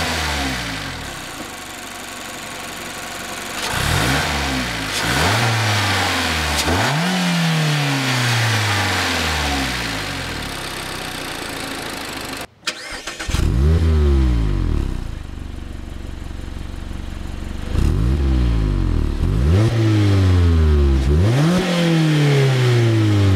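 A 2019 Mazda MX-5 Miata's 2-liter four-cylinder Skyactiv-G engine revs repeatedly, climbing through the gears in loud rising sweeps, pauses briefly, then accelerates hard again several times.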